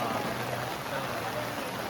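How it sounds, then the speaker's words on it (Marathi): Steady rain pours down at a bullock cart race in Chiplun, Konkan, a continuous, loud hiss of falling water that holds evenly throughout with no pauses. "पाऊस मजा करतोय"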